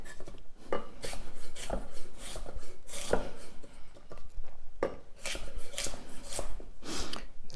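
A knife slices asparagus into rough pieces on a cutting board, giving a quick series of sharp, close chopping knocks with brief scraping between cuts and no talk.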